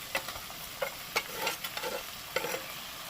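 Fried cauliflower pieces are stirred into a shrimp-head paste in a pan, soft sizzling under repeated spatula scrapes and taps, quiet and close with no talk.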